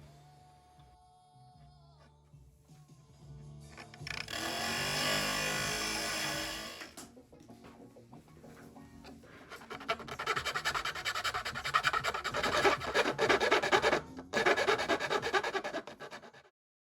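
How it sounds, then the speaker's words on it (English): Files and sandpaper work the drilled holes of a wooden instrument soundboard, giving steady scraping and rubbing strokes that come in sustained bursts, louder in the second half. "then I finished the holes with files and eventually sandpaper"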